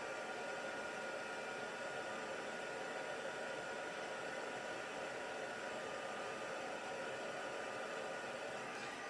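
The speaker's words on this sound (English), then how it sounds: "we're gonna just leave this on the surface here and heat emboss it" A heat gun runs continuously over embossing powder on a card, giving a steady, even blowing whoosh with no breaks and no talking, fairly quiet overall.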